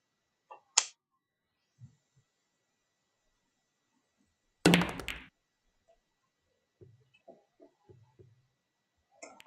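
Pool balls clack during a nine-ball game, with a few sharp, sparse knocks at a distance and one louder crack in the middle, followed by quieter scattered taps.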